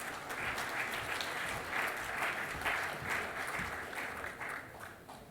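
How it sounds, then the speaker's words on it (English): Sustained applause from a conference audience at Explosafe 2016 for the chairperson, steady clapping that fills the room for several seconds before tapering slightly. "Let's give our chairperson a round of applause."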